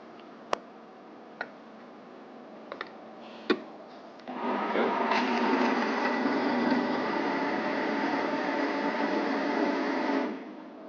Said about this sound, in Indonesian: Nah, langsung di blender.